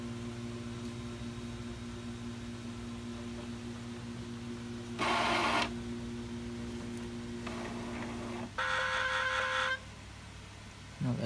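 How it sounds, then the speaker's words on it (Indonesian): An Epson L565 printer powers up to ready, giving a steady low motor hum broken by two bursts of whirring mechanism noise from its carriage, close and alone with no talk. "Kita lihat sampai printer ini benar-benar ready."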